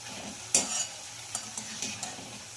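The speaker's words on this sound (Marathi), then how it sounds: "तर अशा पद्धतीने आपण सर्व बुंदी तळून घेऊया" Boondi fry in oil with a soft, steady sizzle, broken by several sharp metallic clinks and scrapes of a ladle or strainer against the pan.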